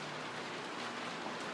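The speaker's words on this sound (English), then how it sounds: "It's really raining hard." Heavy rain pouring hard outside, a steady hiss of drops on surfaces that stays uniform and close throughout the short stretch, with no talk.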